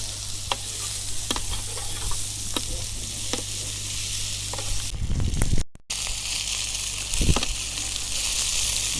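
Mushrooms and meat fry in a pan outdoors beside a reservoir. A steady close sizzle is broken by stirring scrapes, with a louder clatter midway.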